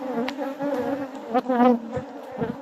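Honey bees drone at an opened, cleaned-out hive, a close, continuous buzz with individual bees swelling louder as they pass near.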